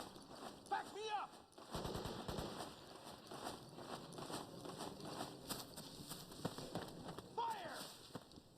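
Gunfire in the video game Metal Gear Solid 4, bursts of rapid shots and machine-gun fire at moderate loudness, mixed with shouted voices and battle noise throughout.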